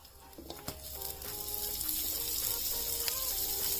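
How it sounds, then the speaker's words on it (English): Butter sizzles in a kadhai, a close, steady frying hiss that builds and holds, with a few faint clinks early on and no talking. "Now we will add butter in this kadhai"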